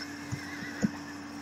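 A horse whinnies briefly against a steady electronic hum in the video game Mount & Blade Floris mod, with a couple of soft low thuds around it.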